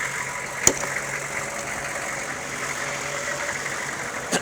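A 1997 AM General Humvee's 6.5 liter turbo diesel idles with the hood open, a steady close rumble with a faint turbo whine and light diesel clatter, with a couple of brief clicks.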